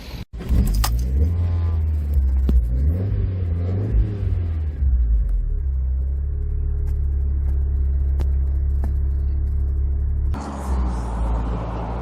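A Lotus Elan M100 Turbo SE roadster from the early 1990s, with the hood down, rumbles steadily as it pulls away and drives, its engine note rising and settling into a continuous close drone.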